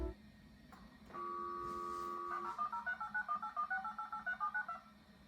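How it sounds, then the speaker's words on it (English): Dial-up modem dialing a long-distance phone number: a steady dial tone, then a quick run of about fifteen DTMF touch-tone beeps at an even rhythm, close and clear, with no voices. "you're gonna hear all these numbers being dialed"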